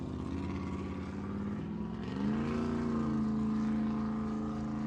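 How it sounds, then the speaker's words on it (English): A Mod V class racing motorboat engine drones steadily nearby at a St. Clair River offshore race, its pitch climbing partway through as the motor revs up into a louder, sustained roar, with no talking. "Well, that motor sounds great."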